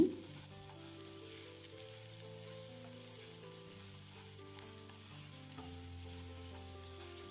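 Vegetables fry in a pan with a steady, close sizzle that holds even throughout, with faint stirring and no voices.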